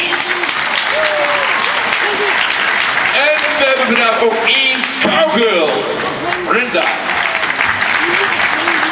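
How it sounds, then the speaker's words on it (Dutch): A crowd applauds steadily and loudly for cowboys at a Ponypark show while someone speaks in Dutch over the clapping. "voordat we dat gaan doen wil ik eerst applaus hebben voor onze cowboys"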